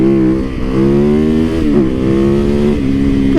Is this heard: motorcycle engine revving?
yes